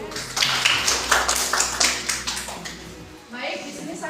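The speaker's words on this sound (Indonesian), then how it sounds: "Sebelumnya saya boleh minta tepuk tangan untuk ibu-ibu 5 orang guru hebat tersebut." Audience claps for five teachers at a school gathering. The clapping comes in a fairly sparse, uneven rhythm at moderate loudness and stops near the end.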